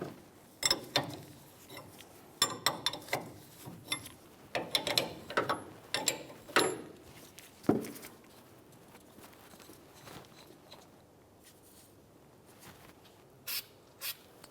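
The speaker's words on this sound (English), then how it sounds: "Now let's turn that jam nut counterclockwise to fully remove it." Close, uneven metallic clicking and creaking as a tie rod jam nut on a 2004-2015 Nissan Titan is turned counterclockwise, in sporadic short bursts that thin out into faint scattered taps.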